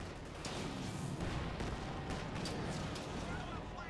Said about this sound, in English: Those AT guns have low pen, but really good rate of fire